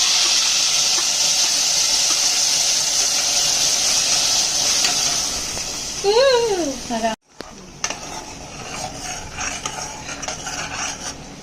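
A ground spice paste fries in hot oil with asafoetida for soybean bhaji: a steady sizzle, then a sudden brief drop and a louder, crackling fry with spatula scrapes and pan clatter.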